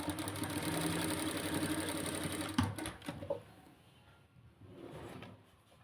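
Sewing machine runs close with a steady whirring stitch while sewing lining into a salwar, then stops with a clack and quieter handling sounds follow.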